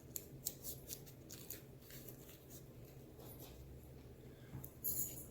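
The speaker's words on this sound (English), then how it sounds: "take your scissors, trim off a little bit" Scissors trim a strip of paper for a homemade triangle firecracker, producing quiet crisp snips and rustles in short bursts, faint and close up with no speech.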